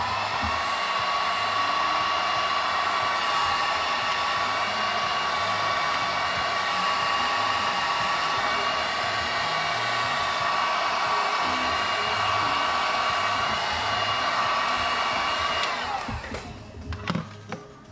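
A heat gun blows hot air onto vinyl wrap on an FPV drone, a steady loud whooshing roar with a faint high whine that runs unbroken for about fifteen seconds before shutting off.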